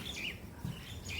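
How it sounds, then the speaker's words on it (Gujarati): Sparrows chirp faintly in a rural village during rainy weather, with a few short, high tweets at the start and end of a brief moment amid soft background noise. "કબૂતર ચકલી યાર, આ અવાજ"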